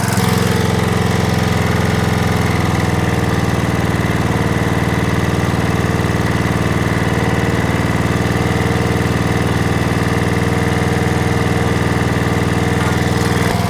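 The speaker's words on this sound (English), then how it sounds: "The engine is warming up." Small gasoline engine on a restored log splitter idles while warming up, a steady, loud, close drone that holds a constant rhythm throughout with no voices over it.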